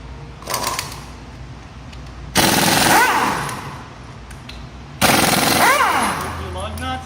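An impact wrench removes the front wheel lug nuts on a 2015 Audi Q7 in loud, close bursts of rapid hammering, with three separate runs, each longer than the last.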